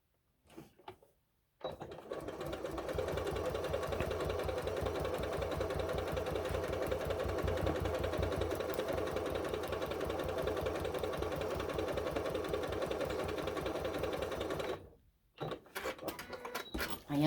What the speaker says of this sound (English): I am sewing on my lovely Janome 6700P.